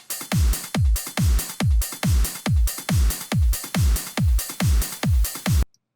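A trance drum mix with a punchy kick drum thumps on a steady four-on-the-floor beat, layered under bright hi-hat and percussion texture. It is loud and alone, then stops abruptly at the end.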